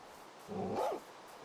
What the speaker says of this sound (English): Don't bark at me.